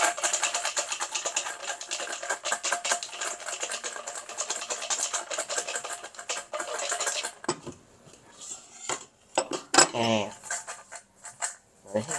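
Fries and beef shaken with cheese powder in a container make a continuous loud rattling and clattering, which breaks into a few scattered knocks and scrapes toward the end.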